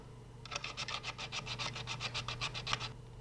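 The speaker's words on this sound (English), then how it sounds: "tidy up the corners and the edges of the headlight with a flat sharp file" A flat sharp file rasps back and forth over the plastic edges of a headlight opening on a Lamborghini Huracán scale model, about fourteen quick even strokes in a steady rhythm, close and clear with no talk.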